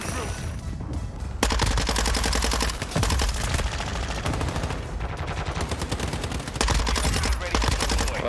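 Sustained SMG fire in a shooter video game, a dense rapid rattle of close, loud shots running in long bursts with only brief pauses between them.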